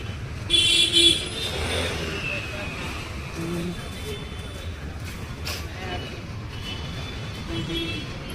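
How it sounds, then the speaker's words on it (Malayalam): Night road traffic on a national highway gives a steady hiss and rumble of passing vehicles, with a few short horn toots and faint voices over the continuous drone. "കുറച്ച് ട്രാഫിക് കാണിച്ചേക്കാം"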